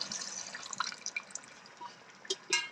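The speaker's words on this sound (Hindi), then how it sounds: "अब इसमें हाफ कप पानी का शामिल करेंगे।" Half a cup of water poured into a pan of Sindhi beef biryani korma gives faint liquid splashes and scattered drips, soft and close, with a couple of slightly sharper splashes near the end.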